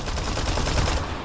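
Rapid shots fire from a weapon in the Mega Man X video game. The bursts are dense and continuous and stay loud for just over a second before they cut off.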